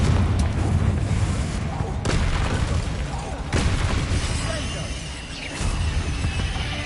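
Deep booms from Confringo fire spells burst repeatedly in Hogwarts Legacy while fighting spiders. The heavy thuds land over a dense, rumbling battle backdrop, with a voice speaking over the noise.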